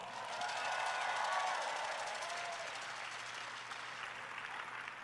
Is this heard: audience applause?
yes